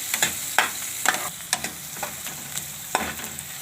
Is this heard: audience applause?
no